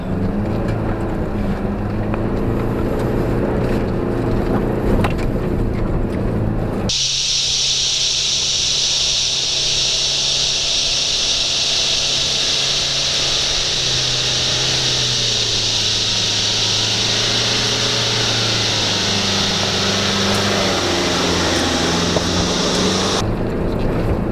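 A 4x4 vehicle grinds up a steep, loose gravel and dirt logging road, its engine droning steadily close by, shifting to a higher strained whine partway through with rough rumbling underneath.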